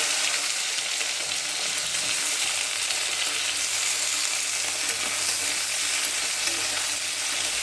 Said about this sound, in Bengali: বেগুনটা ভেজে নেব।